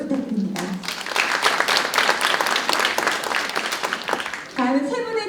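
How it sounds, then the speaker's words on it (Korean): Audience applause at a policy forum on fishing-boat safety, greeting an expert presenter: a dense, steady round of clapping lasting several seconds, with a voice speaking just before and as it fades. "여러분 큰 박수 부탁드립니다."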